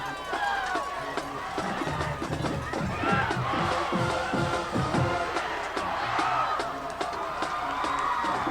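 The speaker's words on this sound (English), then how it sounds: "Can you hear this crowd? They've been loud. They've been rowdy." A high school football crowd roars and shouts at a rowdy Sussex Tech vs. Milford game, with whoops and overlapping voices forming a dense, continuous din that stays loud throughout.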